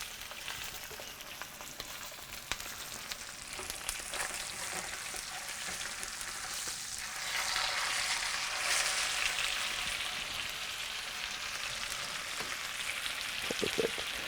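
Steak and a few garlic cloves sear in a hot pan, a continuous close crackling sizzle with sharp spits that swells slightly partway through, no voices.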